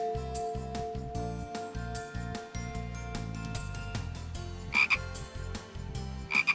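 A frog croaks in a rapid repeating rhythm, steady pulsing calls throughout, fairly close with a faint background, and a couple of brief sharp clinks near the end.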